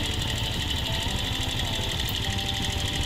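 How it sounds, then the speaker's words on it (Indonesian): Yamaha Vega ZR motorcycle engine running steadily with a fast, even mechanical drone and rattle as the carburetor air screw is adjusted, loud and close throughout with no talk. "Putar baut angin tersebut di mana putaran mesin menjadi tinggi"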